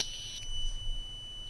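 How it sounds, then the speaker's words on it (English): A cheap AliExpress gas detector buzzer sounds a short, shrill electronic beep up close, cutting off abruptly and leaving a faint, steady high whine. "When I release the gas from the lighter, the LED will turn on and the buzzer will sound."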